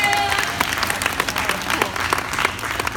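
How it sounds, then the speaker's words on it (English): A crowd at a glass-blowing demonstration in a museum claps and cheers after a glass bowl is tapped free, steady dense applause with a few voices mixed in. "掌声鼓励一下吧"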